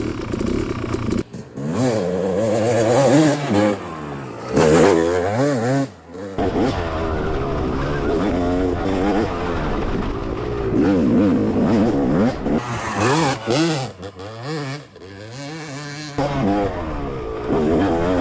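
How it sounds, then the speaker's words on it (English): Dirt bike built from a box of parts, engine revving hard while riding up a trail toward a summit, loud and close with constant throttle swells and drops, with a bit of talk over it. "This bike is sick. It sounds happy."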